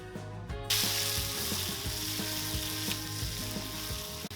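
Okra drops onto a hot Cuisinart 360 flat top griddle and bursts into a loud, steady sizzle that holds for several seconds, with faint scraping and clinks underneath.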